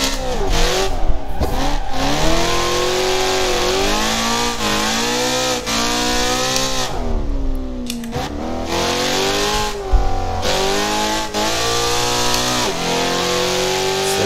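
BMW M3 E92 with a straight pipe exhaust in the Assetto Corsa racing game, heard from outside as a loud, raspy engine revving up and down through repeated gear changes, with no talk.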